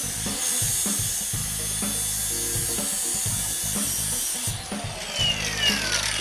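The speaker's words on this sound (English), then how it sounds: "what if we just hit that with a grinder?" An angle grinder works a weld on a car frame in a shop, a loud, continuous high whine with rhythmic low thumps and scraping as the disc bites the steel.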